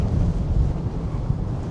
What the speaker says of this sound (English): it's exceptionally windy